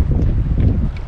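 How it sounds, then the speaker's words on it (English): Wind gusting over the sea on a fishing outing off Bermuda, a steady low rumbling roar buffeting the microphone throughout, loud and unbroken. "It's a little bit windy, but it's a good day."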